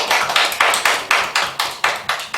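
Sharp, steady clapping in a quick even rhythm at a church worship service, about nine crisp claps in a row, fairly loud with no voices.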